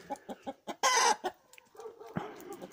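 A rooster on an icy surface gives a run of short rhythmic clucks, then a loud harsh crowing burst, followed by quieter scuffling and murmuring clucks close by.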